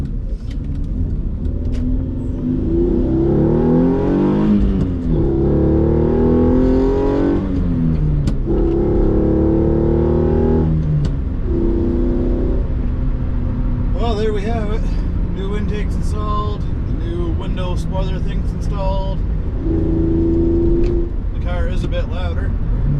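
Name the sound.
Hyundai Genesis Coupe with AEM intake accelerating on drive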